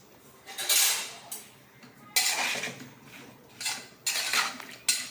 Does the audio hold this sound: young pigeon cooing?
no